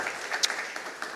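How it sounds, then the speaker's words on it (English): Audience applause at the Integrity Icon Philadelphia awards ceremony, a short burst of steady clapping at moderate volume with a couple of sharper individual claps standing out. "certainly a big round of applause for the Philadelphia citizen, Roxanne and Larry in particular."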